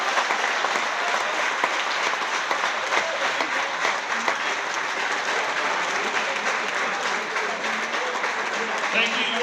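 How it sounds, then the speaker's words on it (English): An audience at a school basketball game on Parents' Day gives a round of applause for families and players, loud continuous clapping from a crowd filling the gym throughout, with voices faintly mixed in. "Let's give a round of applause to all of our families and players."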